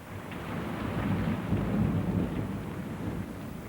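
Steady heavy rain with rumbling thunder during a Colorado storm, a dense continuous roar at close range with no voices.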